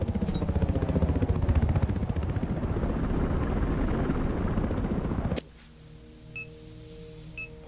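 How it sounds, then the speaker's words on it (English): A transport helicopter in the video game Battlefield Hardline thunders loudly with a rapid rotor chop for about five seconds, then cuts abruptly to a quieter background with faint clicks. "That's a transport chopper"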